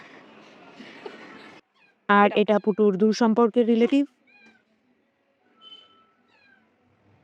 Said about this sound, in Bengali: এটা ওদের বাড়ি পোষা বিড়াল